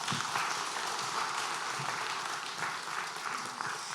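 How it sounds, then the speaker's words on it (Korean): A church congregation claps in praise, a faint, even wash of many hands clapping continuously across a few seconds. "자, 우리 박수로 하나님께 영광 올리겠습니다."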